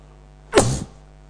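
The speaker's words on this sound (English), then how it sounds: "I have this sneezing problem today." One sharp, explosive human sneeze bursts out abruptly and fades within a fraction of a second, close to the microphone and loud against a quiet indoor background.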